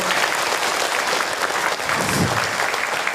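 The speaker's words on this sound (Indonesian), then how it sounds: "Oke, tepuk tangan dong Bu, luar biasa ya." An audience at an Islamic lecture applauds in a dense, steady wash of clapping that fills the whole moment, loud and close with no pauses.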